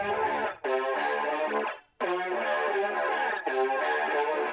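Guitar processed with Devil-Loc distortion, a lo-fi Pro-Q3 EQ curve and a MicroShift widener, heard as dense, saturated, shimmering chords in a few sustained phrases broken by short gaps, with no voices.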